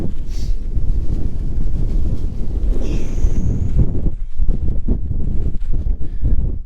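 Strong, gusty wind roars and buffets the microphone without a break, surging and easing in rough bursts, on Purple Mountain, County Kerry, Ireland.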